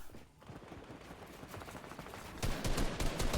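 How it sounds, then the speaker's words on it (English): Faint distant gunfire rattles in a Fortnite trios playoff match, a steady stream of quick shots that grows louder and denser toward the end, with no voices over it. "Shots fired from across the chasm."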